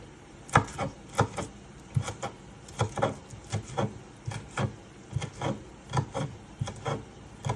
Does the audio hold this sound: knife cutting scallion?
yes